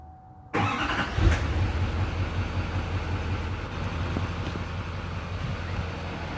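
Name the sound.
Duramax LML diesel truck cold start, resonator delete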